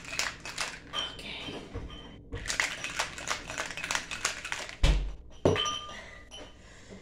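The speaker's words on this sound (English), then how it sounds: "we're gonna combine all the ingredients into a shaker with ice. And then we'll shake well" Cocktail ingredients and ice in a shaker, with rattling clinks and knocks of ice against the tin in quick bursts, close by, followed by a couple of heavier thunks near the end.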